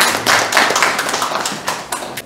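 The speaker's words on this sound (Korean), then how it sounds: "우리 4년 동안 고생하신 이선무 의장님께 큰 박수 한번 부탁드립니다." Scattered hand clapping from attendees at a village year-end general meeting in Hongcheon, a few uneven claps in a small room, close and irregular.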